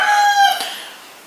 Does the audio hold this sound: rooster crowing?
yes